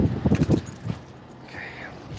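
A bunch of keys jangles in quick metallic bursts close by, then settles into a quieter background hum.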